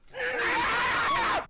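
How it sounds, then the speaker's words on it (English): A loud, sustained human scream stands in for the Roblox death sound in the video game, a single wavering yell lasting just over a second, close and harsh, with no other sound. "There's another scream for you homies back at home needing your little fix of loud guy."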